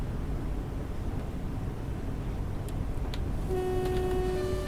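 A Wessex Class 442 electric train in Train Sim World 2 rumbles past on the Gatwick line, steady rolling noise building as a bright sustained horn tone sounds near the end.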